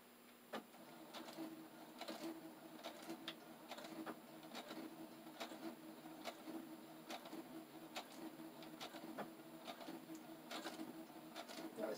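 A sewing machine restitches a seam on a fabric pouch in quiet, uneven bursts of rapid ticking needle strokes, with small clicks and pauses between runs, close and fairly faint.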